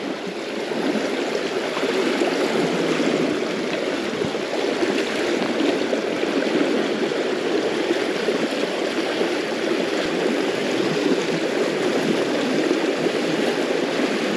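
The River Orchy, a salmon river, rushes over slippery bedrock in a steady, loud, close roar that holds unbroken throughout, with no voices.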